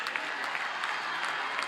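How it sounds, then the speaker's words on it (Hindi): Crowd at a ceremony honouring an Olympic hockey player breaks into loud, steady applause, a dense wash of many hands clapping throughout. "जोरदार तालियां"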